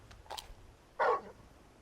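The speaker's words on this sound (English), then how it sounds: "You're just a big puppy, aren't you?" Torgal, the big dog from Final Fantasy 16, gives a couple of short barks: a faint yip early on, then one louder, clearer bark about a second in, with no talk over it.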